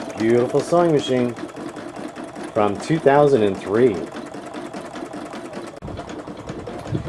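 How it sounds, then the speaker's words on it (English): A Brother ULT 2003D sewing machine stitches metallic thread, running steadily with a rapid mechanical whir, while a person talks over it at close range. "It's beautiful sewing machine"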